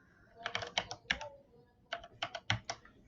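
Typing on a computer keyboard, two quick clusters of close, crisp key clicks separated by a short pause, quiet and with no talking.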